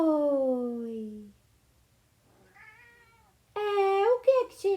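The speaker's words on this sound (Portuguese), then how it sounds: "Meu gato tá miando." A house cat meows several times close by, a long falling cry at the start, a faint short one in the middle, then a loud run of sharp, wavering meows at the end, with a quiet background between.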